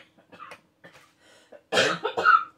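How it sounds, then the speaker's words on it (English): Someone coughs close by, a few small hacks and throat sounds followed by two louder, harsher coughs. "As you can see, I'm still coughing a lot."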